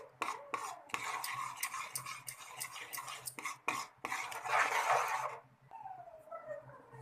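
Ground gum, dry fruits, cardamom and wheat flour are stirred together in a pan, with spoon and utensil scrapes and clinks in an irregular run that swells into a denser rustle near the end, close and moderately loud.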